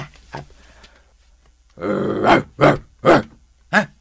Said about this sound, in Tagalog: Pulis dog.